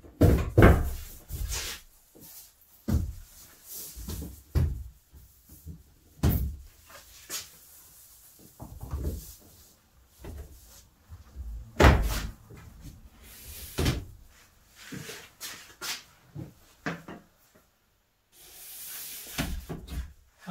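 The small door of a bicycle-towed caravan is opened and shut again and again, producing close, sharp knocks, clacks and thuds spread across the stretch, with no talking.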